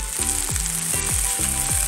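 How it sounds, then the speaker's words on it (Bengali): Marinated soya chunks sauté in a pan with very little oil, giving a loud, continuous sizzle broken by four or so rhythmic stirring knocks. "এই যে এখানে 1 মিনিট আমার ভাজা হয়েছে সয়াবিন, খুব কম তেলে বলে একটু ভাজতে অসুবিধা হয়েছে"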